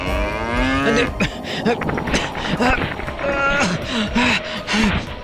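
A calf kept from its mother by a tree moos repeatedly in close, plaintive bleating calls, loud and insistent, with some overlapping voices in the background.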